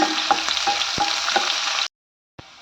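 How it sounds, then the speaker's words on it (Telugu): Green chillies and chopped onions frying in a pan with a steady, close crackling sizzle and a few soft clinks, cutting abruptly to silence before the sizzle briefly returns. "పచ్చిమిర్చి వేసుకోవాలండి. ఆనియన్స్ కూడా వేసుకోవాలండి. ఇది కొంచెం ఫ్రై అవ్వనిద్దాం."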